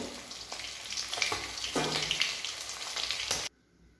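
Pieces of bhola fish crackle and sizzle steadily in hot oil, with a few stirring clatters, then the sound cuts off abruptly near the end.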